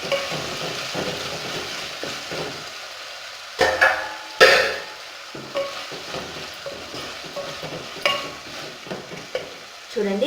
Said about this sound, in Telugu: ఆనియను, పచ్చిమిర్చి, టమాటా అనేవి కాస్త మెత్తపడేంత వరకు ఇలాగే మగ్గించుకోవాలి.